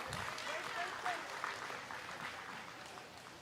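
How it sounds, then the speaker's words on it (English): Spectators at a county fair 4-H/FFA market lamb show applaud the exhibitors with a soft, continuous patter of clapping heard at a distance, with speech mixed in. "Let's give them a hand."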